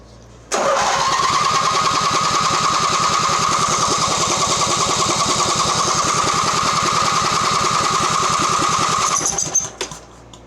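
Mastercraft 46-inch riding mower engine with no exhaust fitted, cranking and catching into a loud, steady, rapid-firing roar close by for about nine seconds before cutting out abruptly.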